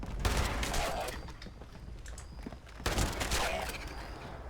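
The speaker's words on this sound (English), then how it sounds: "Let's get my shotgun ready." Shotgun blasts in the video game Fallout 76, two loud booming shots a few seconds apart, each followed by a rumbling tail over game ambience, with no talk.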